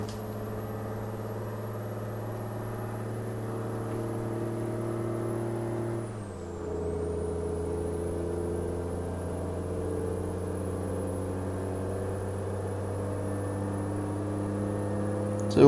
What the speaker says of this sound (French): On est en train de peiner comme des bœufs avec le camion là.